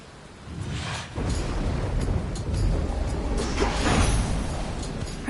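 Rain falling in the video game Hades 2, a steady, broad hiss that swells after a brief quieter start and keeps going alone at moderate loudness.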